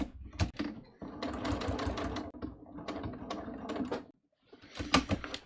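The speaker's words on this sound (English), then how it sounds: "And then we're just going to sew right up this last side." A sewing machine stitches a hem in several close, loud bursts of rapid mechanical whirring and clatter, separated by brief pauses, with a short silence near the end before a final run.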